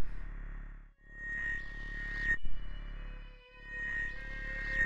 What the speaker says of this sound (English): Why did it beep beep beep at me?